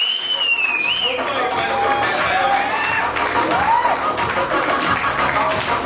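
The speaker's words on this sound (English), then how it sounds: "Koratala, Siva, ladies and gentlemen, thunderous round of applause" Crowd at a film trailer launch applauds and cheers for director Koratala Siva, a loud dense roar of clapping and whistles with shrill whoops rising above, talk mixed in.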